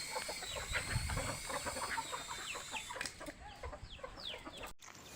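Backyard chickens cluck and chirp in short overlapping calls at moderate distance, with a continuous background hum underneath.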